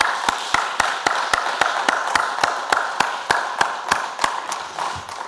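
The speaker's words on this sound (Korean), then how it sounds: "하나님께 영광의 박수 올려도 되겠죠?" A church congregation at a special early-morning worship service claps in a steady rhythm, about two claps per second with sharp even beats, close and fairly loud for several seconds.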